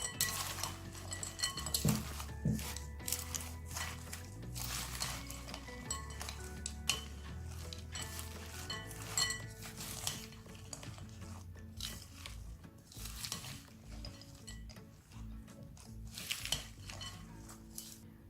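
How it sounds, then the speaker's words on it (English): A spoon tosses a mixed greens and peanut salad with chili powder, chili flakes and salt in a bowl, giving irregular close clinks and scrapes of metal on the dish in quick bursts, with no talking. "Now with the help of a spoon I will mix this."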